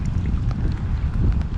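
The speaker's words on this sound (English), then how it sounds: "this lake I'm on now, so windy as well" Strong wind gusts across an open lake in cold weather during a pike fishing trip, a dense low roar buffeting the microphone with no other sounds.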